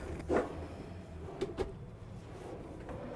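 Soft-close kitchen drawers in a new 2025 Newmar Bay Star Sport RV slide and settle with a few brief, muted thumps and rolling swishes, close by in a quiet interior.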